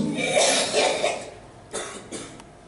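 Several coughs from one person, a rough burst of coughing early on followed by two shorter, separate coughs, close to the microphone and fairly loud against a quiet background during a Swahili prayer session.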